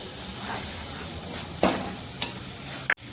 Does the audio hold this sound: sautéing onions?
yes